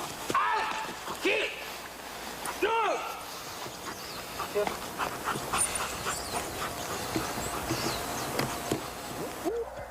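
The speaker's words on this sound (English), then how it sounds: "in this demonstration, the dog shows us they don't need hand or verbal signals if their handler is ever put in danger" Military guard dog in a handler protection demonstration, barking and snarling in repeated bursts over busy background noise, with people's voices mixed in.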